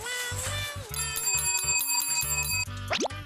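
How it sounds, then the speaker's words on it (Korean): A bell rung at mealtime to call a mother cat and her nine kittens, sounding a series of bright, tinkling rings in quick bursts, close and clear, ending with a short rising tone. "종소리가 울리면 밥때가 됐다는 것"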